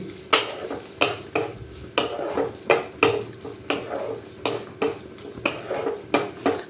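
A ridge gourd dish being stirred in a pan after a drizzle of mustard oil, with repeated scraping and clinking strokes of a spatula against metal coming in an even rhythm, close and clear, no voices.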